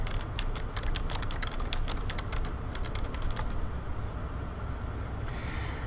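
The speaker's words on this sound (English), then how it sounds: "And I'll start typing." Rapid keystrokes clatter on a computer keyboard in quick irregular bursts, close by, then trail off into quiet room noise.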